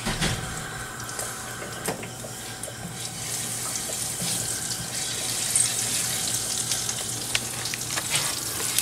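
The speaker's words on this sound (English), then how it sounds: "I'm making gravy right at the moment." Gravy with bouillon cooks in a pan on the stove, giving a close, steady sizzle and bubbling with occasional stirring scrapes and watery splashes throughout.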